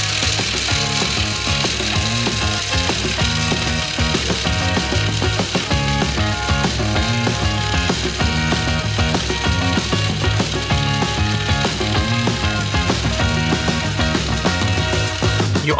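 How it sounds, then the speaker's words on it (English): A handheld construction mixer churns heated milk and sugar for a giant 220-pound Kinder Bueno cream filling, giving a loud, continuous motor drone with a rattling, ratchet-like mechanical texture that holds steady throughout, with no voices. "And mix it all with a construction mixer."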